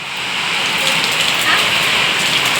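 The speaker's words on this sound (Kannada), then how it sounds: "ಎಂತ ಮಳೆ" Steady rain falls outdoors with a continuous, even hiss of drops that stays fairly loud and unbroken for the whole stretch, and no voices are heard.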